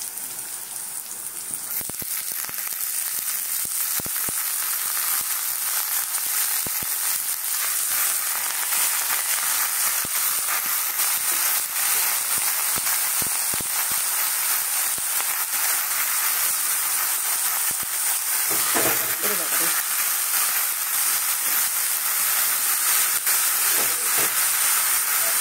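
Red amaranth greens (lal shak) frying in a pan over half-cooked onions, giving a loud, dense, continuous hiss and sizzle with occasional soft stirring knocks, no talking.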